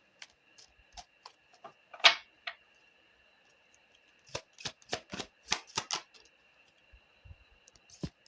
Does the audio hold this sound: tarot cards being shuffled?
yes